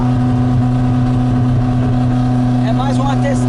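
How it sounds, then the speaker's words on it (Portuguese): A 1973 Volkswagen Variant engine runs lean while climbing a hill, close and steady with a low throbbing hum, faint irregular pops, and a voice talking over it near the end. "esses pequenos estouros que a gente ouve agora"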